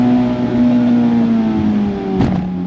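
A 2019 Mazda Miata's exhaust holds a steady, fairly loud higher-rev hum with a brief throttle blip near the end, sustained with no talk over it.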